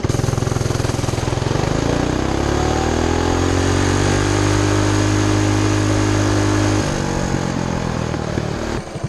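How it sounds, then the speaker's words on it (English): A Coleman CT200U camo mini bike engine revs hard at top speed, a loud, close buzzing drone whose pitch climbs, holds high for several seconds, then drops as the throttle eases off near the end. "we're gonna do a top speed on the Camo bike"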